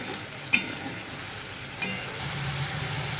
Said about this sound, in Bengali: এবারে ভেজানো মশলাটা দেব, দিয়ে ভালো করে নেড়ে নেব